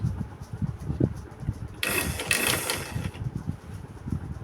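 A sewing machine stitches fabric for a bustier crop top with bishop sleeves, running in one steady, fairly close burst of about a second between quieter stretches of room noise.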